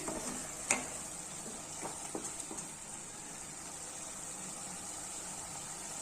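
Mixed vegetables for samiya upma being stirred in a pan, a faint steady sizzle with a sharp spoon knock near the start and a few soft scraping taps, quiet and close, no speech.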